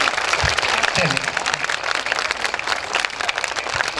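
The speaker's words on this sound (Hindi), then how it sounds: "एक बार तालियों से सभी कलाकारों का उत्साहवर्धन करिए।" Crowd at a Durga Puja celebration applauds dance performers, a loud, continuous rattle of many hands clapping with a few deeper thuds, while voices carry on underneath.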